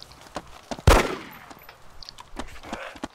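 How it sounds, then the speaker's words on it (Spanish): A single sharp gunshot in the video game DayZ, loud and abrupt with a short echoing tail, followed by quieter faint rustles. "Disparo, he escuchado."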